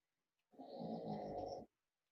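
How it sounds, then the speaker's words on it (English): A sleeping dog lets out one soft, drawn-out snore lasting about a second, faint and distant in an otherwise quiet room. "dog snoring away in the background."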